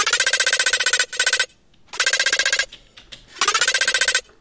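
A short, bright synth arp melody processed with grain delay and a frequency shifter plays in three rapid, pulsing bursts of buzzy ringing notes separated by near-silent gaps, loud and alone.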